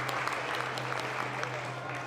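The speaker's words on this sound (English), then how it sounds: "we'll give a big round of applause for them" An audience at a devotional talk gives a short round of applause, a brief patter of many hands with a steady low hum underneath.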